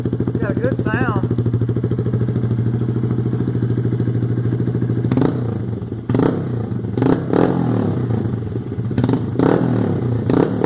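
Honda Grom motorcycle fitted with a titanium exhaust, baffle removed, idles loudly with a crackling burble, then gets several sharp throttle blips that rise and fall in quick bursts, recorded up close.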